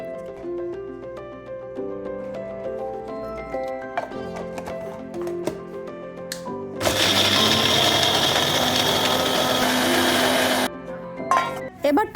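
An electric blender grinds onion, ginger, garlic and chili with a little water into a paste, a loud sustained whir that cuts in abruptly after quieter kitchen clatter and stops after about four seconds, followed by a few short bursts.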